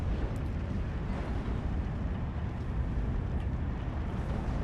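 Sturmpanzer artillery in Steel Division 2 on the Lenina map, a continuous heavy rumbling roar of battlefield fire, dense and steady with no distinct individual blasts.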